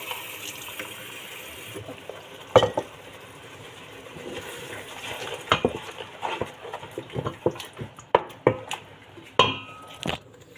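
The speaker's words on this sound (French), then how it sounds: "Je mélange bien." Lentils cooked in a pot with tomato sauce thinned in water, stirred with a utensil: wet sloshing and scraping, then a run of sharp clinks and knocks against the pot that come closer together toward the end.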